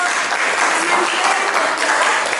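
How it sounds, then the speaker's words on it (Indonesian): Classroom applause, steady and fairly loud, a continuous wash of many hands clapping together for the whole short stretch. "Boleh tepuk tangan untuk"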